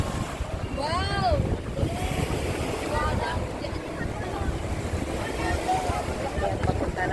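Boat ride out to sea off Sabang Boardwalk, Ilocos Sur, with steady wind buffeting and wash of waves under a constant roar, and a voice briefly heard near the start.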